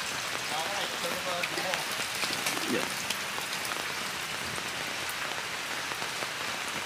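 Steady rain pattering on surfaces, a dense even hiss of drops throughout, with a faint voice briefly heard beneath it.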